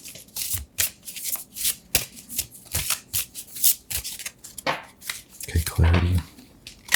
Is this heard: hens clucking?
no